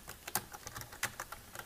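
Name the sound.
typing on a computer keyboard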